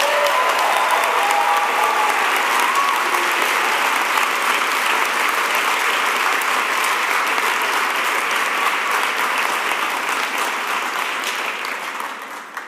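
A large audience at an Oregon Executive MBA commencement gives the graduates sustained, even applause for about twelve seconds, fading slightly near the end.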